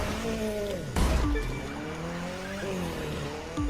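Mitsubishi Lancer Evo in The Crew 2 racing off-road, engine revving and shifting with rising and falling pitch, a loud thump or impact partway through, and tire noise throughout.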